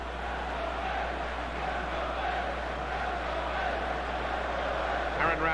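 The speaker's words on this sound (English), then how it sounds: "the crowd really enjoying it" Crowd noise from the FIFA 14 football video game: a broad, steady roar of cheering fans holds throughout, loud and continuous, with a brief louder swell near the end.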